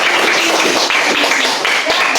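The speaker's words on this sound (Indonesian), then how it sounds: "tepuk tangan untuk Parianti" Classroom applause for a student who answered correctly, steady dense clapping from many hands close by, loud and continuous throughout with a little voice mixed in.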